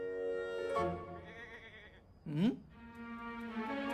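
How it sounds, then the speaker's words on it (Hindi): A goat bleats, a wavering, harmonic cry followed by a sharp, louder bleat, heard up close in a quiet scene alongside another sustained tonal voice. "बकरा तो बकरी की ही आवाज पे आएगा ना।"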